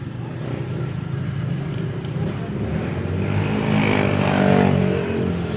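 A small-engine grass cutter runs at a steady drone nearby, rising slightly in loudness toward the end, with no clear talking over it.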